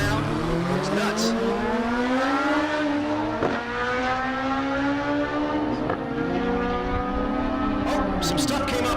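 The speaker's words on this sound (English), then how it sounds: "believe this is a turbo Hayabusa in the left lane" A turbocharged Suzuki Hayabusa drag motorcycle roars loudly at a Kansas dragstrip, its engine note rising and shifting through several pitch sweeps, with harmonic whine and crowd or announcer noise beneath.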